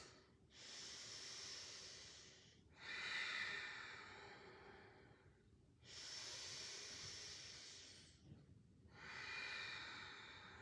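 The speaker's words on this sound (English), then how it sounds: "take 2 breaths" Slow, audible breathing during a dynamic yoga flow, with long airy inhales and exhales of about two to three seconds each in a steady rhythm. The breathing is soft and close, with brief pauses between breaths and no speech.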